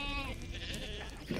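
Sheep in New Zealand bleating, one drawn-out wavering bleat over steady outdoor background noise, fairly close and alone without speech.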